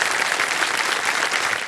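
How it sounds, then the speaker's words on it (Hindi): Studio audience on a televised quiz show claps for a contestant, a dense, even burst of applause filling the room and fading out at the end. "ताली बज जाए आपके लिए"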